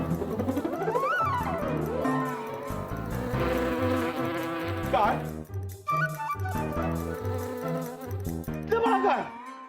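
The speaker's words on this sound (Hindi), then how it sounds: "देखो मधुमती, मधुमक्खी, हमको मत काटो" Cartoon bees buzz in a swarm, a tonal droning hum with rising and falling pitch sweeps, layered over music and voices that talk throughout.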